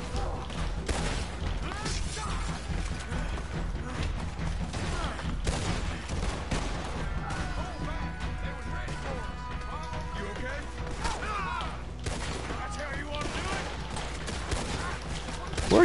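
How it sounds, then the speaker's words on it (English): Gunfire crackles in Red Dead Redemption 2 as a shootout fills the whole stretch, dense bursts of shots over constant game noise, with someone talking intermittently over it. "running out into the middle of freaking gunshots"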